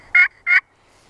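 A slate pot call for turkey hunting produces two short, crisp yelp-like clucks imitating a turkey, loud and close, alone against silence.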